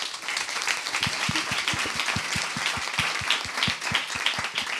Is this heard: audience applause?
yes